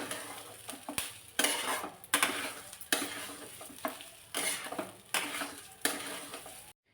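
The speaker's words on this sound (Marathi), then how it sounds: "एवढा मस्त असा तांदूळ भाजून घेतला" Ration rice is being roasted in ghee for coconut rice while a utensil stirs and scrapes it in a pan. The strokes come in regular bursts over a soft sizzle, close and without talk.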